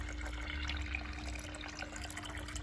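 Water sloshes and splashes continuously in a garden fountain as a closed plastic bag holding fish is lowered into it, a steady nearby churning with no voices.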